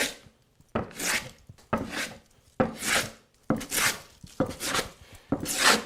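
A hand plane spot-planes a wooden board in a series of rhythmic shaving strokes, each a rasping swoosh about a second long with brief pauses between, close and clear.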